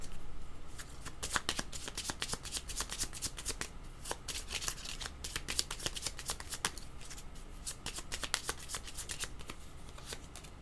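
A deck of cards is shuffled close up, a continuous riffling patter with sharp flicks throughout, with no talking over it.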